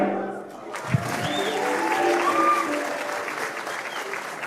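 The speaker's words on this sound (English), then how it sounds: "Let us give a more loud of applause to our Public Service Commission Choir" Graduation ceremony crowd applauding the Public Service Commission Choir, a sustained, even roar of many hands clapping after a brief pause and a single thump at the start.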